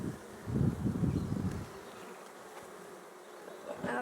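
Honey bees buzz around an opened beehive in March, a steady close hum that swells loudly at first and then settles into a lower, even drone.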